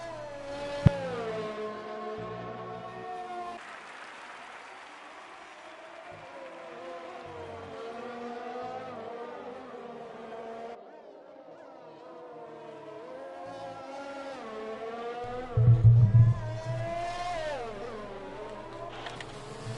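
An F1 race car engine on a hot lap around the Hungarian Grand Prix circuit in an F1 video game, heard onboard, with a high whine climbing through the revs, dropping at gear changes and building again.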